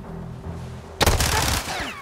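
A loud, close burst of rapid automatic fire from the Vektor gun in Call of Duty: Modern Warfare II (2022), following a second of low game ambience and then trailing off with an echo.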